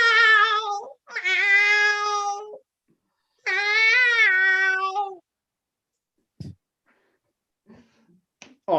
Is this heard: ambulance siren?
no